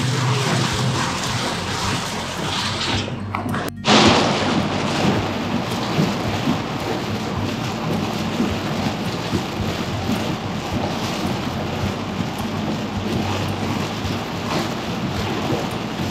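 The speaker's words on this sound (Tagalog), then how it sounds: "ang lakas ng ulan mga ka-business." Heavy rain pours steadily in Davao, a dense continuous roar with a loud thunder crack about a quarter of the way through, and no voices over it.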